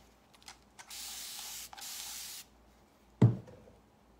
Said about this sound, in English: got my spray bottle